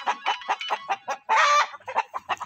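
Chickens roosting outdoors in trees on a bitterly cold winter day cluck in quick bursts close by, and one longer crowing call rises in the middle.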